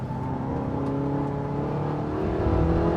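A Porsche 918 Spyder's engine accelerates in a sustained, rising whine and roar heard from inside the car, steady and fairly loud without speech.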